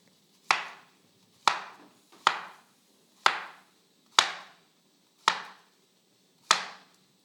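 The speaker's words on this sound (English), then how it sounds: "And then you just cut that in 1-inch pieces." A knife chops food into 1-inch pieces during home cooking: seven sharp, loud, close chops land at fairly even intervals, each ringing out briefly with no talk.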